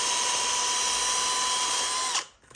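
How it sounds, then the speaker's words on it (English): A power drill fitted with a wire brush scrubs rust and pitting from the inner lip of an ASV bogie wheel, a loud steady whine that stops abruptly near the end with a brief burst after. "and a drill just to get rid of everything."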